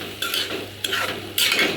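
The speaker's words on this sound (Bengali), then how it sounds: "আমরা রসুন পেঁয়াজ এসব ভাজা নিচ্ছি। এখন ডালগুলো দিয়ে দিলাম একটু ভাজা" Garlic, onion and lentils frying in a pan, with three bursts of stirring scrapes and crackling sizzle over a steady low kitchen hum, close and moderately loud.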